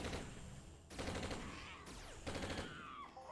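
A gun firing rapidly in the video game Entropia Universe, dense bursts of fast repeated shots in several loud sustained stretches.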